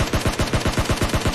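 Rapid automatic gunfire in the battle royale game PUBG, about ten sharp evenly spaced shots in quick succession, loud and close with no voices over it.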